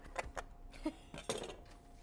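Cilantro being chopped with a knife on a small cutting surface, a few quick sharp knocks in an uneven rhythm, close but soft, with light kitchen clinks between them.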